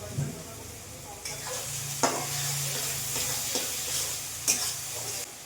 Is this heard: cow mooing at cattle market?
no